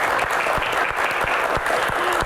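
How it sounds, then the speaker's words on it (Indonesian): A studio audience applauds a guest, Ustadz Derry, with dense, steady clapping, loud and close, sustained throughout with no voices on top. "kita berikan tepuk tangan untuk Ustadz Dery yang hadir di sini"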